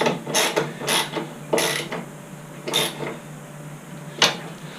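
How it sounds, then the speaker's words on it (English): Tightening the mounting of an LED light bar on an ATV, with a series of loud, close ratcheting bursts separated by short pauses. "now I should be able to tighten both sides down."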